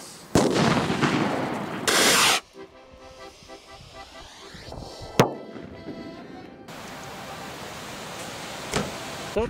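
Firework rockets are set off: a loud hissing burst of ignition, then crackling, sizzling and a sharp pop, followed by a lingering steady hiss.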